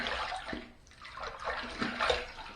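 A razor is rinsed under running water from a tap. There is a close, uneven splashing flow with brief pauses as the blade moves through the stream.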